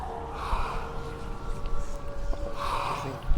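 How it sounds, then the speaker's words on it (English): Breathing from the video game Hellblade: Senua's Sacrifice, heard as steady, breathy gasps and exhales layered over a dark, droning ambient bed at moderate volume. "I think breathing."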